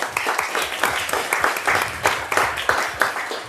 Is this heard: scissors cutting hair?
no